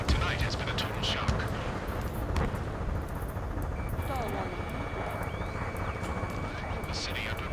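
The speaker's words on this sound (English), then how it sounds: "Gunfire and the roar of jets echoing through the streets." Dense, continuous battle noise from the video game Ace Combat 7: rumbling jet engines and scattered gunfire in a city under martial law blend into a loud, constant roar with sharp reports standing out early on.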